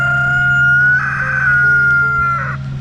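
Chickens cluck and crow up close, one drawn-out call rising then trailing off, with steady low farmyard hum beneath.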